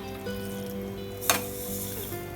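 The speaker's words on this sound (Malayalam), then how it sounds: "കടുക് ഒന്ന് പൊട്ടി വരട്ടെ" Mustard seeds spluttering in about three spoons of hot oil for kurukku kaalan: a low steady hum with one sharp crackling pop partway through.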